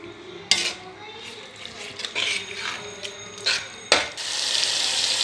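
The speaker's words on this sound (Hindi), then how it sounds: "देखिए अब मैंने ये ऑयल डाल के तो इसको अच्छे तरीके से जो है मैं इसको भून रही हूँ" Chicken fries in oil in a pan for haleem, giving a close, steady sizzle broken by sharp clinks and scrapes of a utensil stirring. A voice speaks softly at times.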